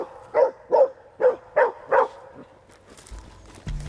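A Guardia Civil police detection dog barks five times in a steady, evenly spaced run, close and loud, before falling quiet amid low background rumble and a few thuds.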